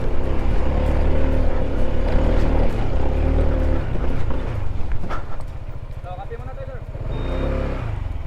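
An offroad scooter engine strains up a steep mountain road on Mt. Ugo between Nueva Vizcaya and Benguet, a steady droning motor, near and loud, with people talking over it.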